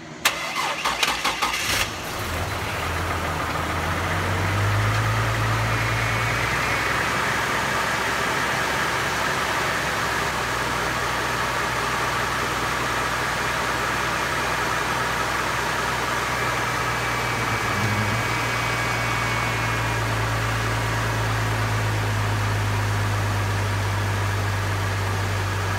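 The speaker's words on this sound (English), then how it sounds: "I'm going to turn the vehicle on" A truck engine cranks briefly and catches, then settles into a steady, close, loud idle that continues unbroken with no talking, right after a rack-and-pinion steering install.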